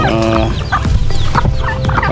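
Chickens in a backyard coop cluck and squawk up close, dense overlapping calls with a rooster-like tone, loud and busy throughout.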